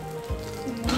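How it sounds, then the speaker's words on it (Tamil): Garlic fries in hot oil with a brief, steady sizzle, close and moderately loud, heard on its own. "கொஞ்சம் பூண்டு பொரியட்டும்."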